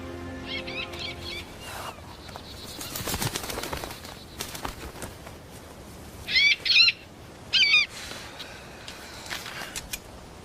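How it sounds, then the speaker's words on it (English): An owl calls in a few short, clear hoots in the later part, close and distinct against a quiet background. "You talked to that bird."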